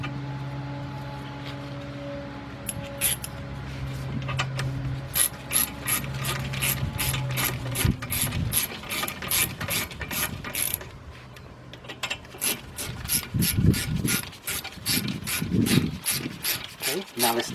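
A hand ratchet clicks repeatedly while bolts are started on the brakes of a 2004 Volkswagen Beetle, with rapid pawl ticks in bursts, nearby and fairly quiet, separated by short pauses and light handling noises.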